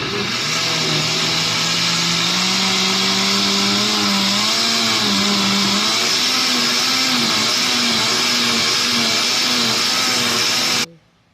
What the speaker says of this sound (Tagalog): ato nang i-blend atong oregano juice